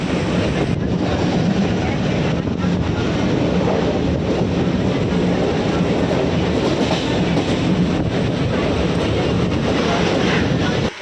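A passenger train rumbles loudly and steadily from up close, with a constant rolling roar and wind buffeting the microphone.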